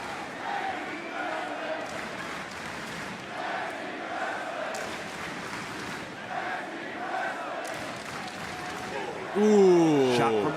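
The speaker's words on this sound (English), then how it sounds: "The roar of the crowd when Wheeler broke up that count." A wrestling arena crowd at a tag team match roars and cheers in a steady, dense wash, under commentary talk throughout, swelling louder near the end.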